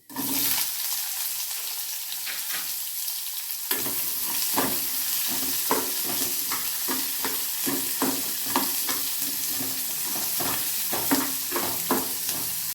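Chopped onions and urad dal frying in a pan for pirandai thogayal, a steady close sizzle with repeated scraping stir strokes, starting quieter before the onions go in and then crackling evenly.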